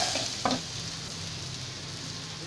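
Onions frying in a pan, a steady close sizzle and crackle with a brief stir near the start, no talking.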